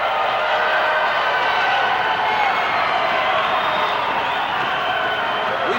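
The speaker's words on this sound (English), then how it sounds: "And the crowd on their feet cheering Strongbow." An arena full of wrestling fans cheering on their feet for Strongbow, heard as a dense, steady roar of crowd noise that holds throughout.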